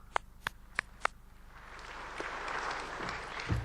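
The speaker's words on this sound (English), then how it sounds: "That's a pretty weak round of applause" Four sharp, close single claps ring out alone before a thin spread of audience applause rises at a keynote address and lingers, faint and sparse, to the end.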